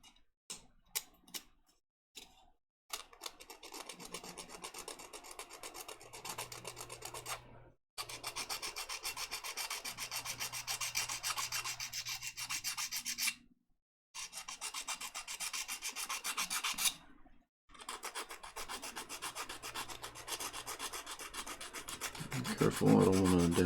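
Small metal file rasping burrs and mould ridges off a tiny miniature figure: steady close scraping strokes in long runs, broken by a few brief pauses.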